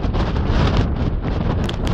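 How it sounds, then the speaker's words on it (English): Strong south wind buffets the microphone at a wild camp in a steady, loud, roaring rush, with no voices. "it's damn windy out here"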